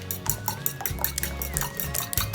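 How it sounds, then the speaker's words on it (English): Eggs and oil being beaten in a bowl, with a whisk or utensil clinking and knocking against the sides in a quick, regular rhythm, close and clear. "My next step is to mix together my eggs and my oil. So I'm going to start beating"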